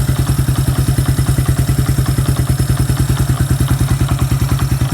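A Suzuki Quad Runner 250 ATV engine idles steadily after warming up, a loud, close, even thumping beat with a faint clattery edge, running alone with no talk.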